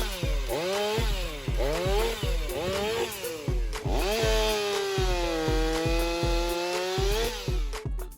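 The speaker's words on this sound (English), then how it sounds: "Cutting wood becomes easy thanks to the Stihl 500i wood saw." A Stihl 500i chainsaw cuts a tree into pieces, revving up and down in loud, repeated surges. Its whining pitch bends as the chain bites into the wood, with no talk.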